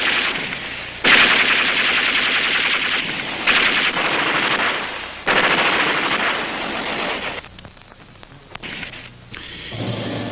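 Bursts of machine gun fire rattle out in rapid volleys at a massacre at the Malmedy crossroads, loud and close, with short pauses between the long strings of shots and fainter scattered reports near the end.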